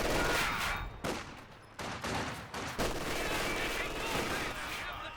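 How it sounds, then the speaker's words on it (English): Machine gun bursts and other gunfire crack in rapid fusillades during a Company of Heroes 2 1v1 match, with loud bursts separated by short gaps and a commentator's voice faintly underneath. "dealing with these machine guns is very tricky"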